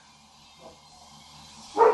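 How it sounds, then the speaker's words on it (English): A guard dog named Archer, sitting at a window, lets out a single loud bark at another dog outside, rising abruptly at the end after a quiet stretch. "That's my dog barking at another"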